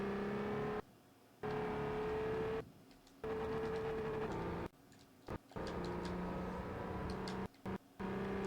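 A Honda Odyssey minivan's VTEC V6 engine in Forza Motorsport 4, holding steady tones with abrupt drops between bursts of revving, fairly quiet and uninterrupted by talk.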